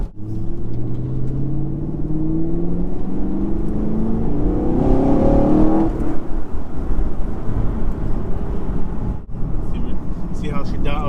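A Chevrolet Camaro SS 1LE fitted with camber plates accelerates hard on the road, engine note climbing in rising sweeps under loud cabin rumble, with people talking over it.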